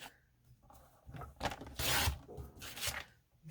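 A paper cutter slices through a piece of card, giving a few soft scraping, rasping strokes close by that rise into a louder swipe near the middle before fading.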